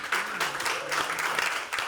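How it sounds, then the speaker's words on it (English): An audience at a wellness and community panel event claps together in dense, sustained applause, loud and close, filling the full two seconds without a break. "Let's give them a round of applause."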